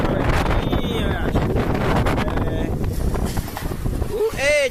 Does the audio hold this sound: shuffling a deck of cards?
no